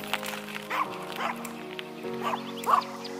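A dog gives several short barks and yips close by, spaced irregularly over the steady low hum of a flying drone.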